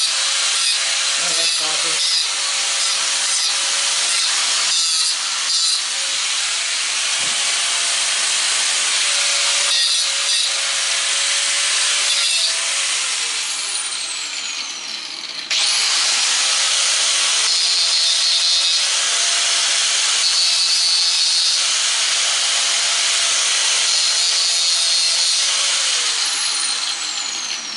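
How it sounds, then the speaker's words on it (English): Angle grinder working over brass and copper scrap metal, a loud, harsh, continuous grinding roar that barely lets up for the whole stretch, with a brief voice speaking over it. "Let me hit it with the angle grinder, make sure."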